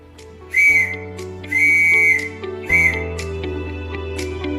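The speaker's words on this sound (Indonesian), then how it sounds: "Nah, bunyi dari huruf R" A whistled Morse code letter R sounds as three tones, short, long, short, over a low sustained backing tone, close and clear with no talking.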